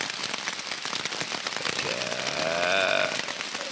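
Rain falls on a trail crossing in Estrie, a dense, steady patter of drops on surfaces with a whistling, rising tone briefly over it near the end.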